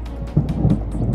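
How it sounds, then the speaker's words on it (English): A thunderstorm with torrential rain and golf-ball-sized hail gives a brief, loud, low rumble over a steady wash of heavy rain. "The storms also dropped torrential rain and hail upwards of golf ball size for a short time."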